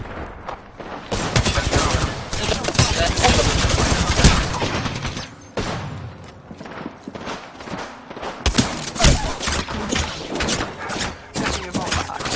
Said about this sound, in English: Taking fire. They're firing on me.